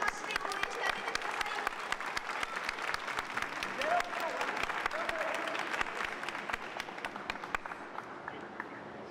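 Spectators at a pickleball match applaud in a sustained round of clapping that rises and fades over several seconds, with crowd murmur underneath.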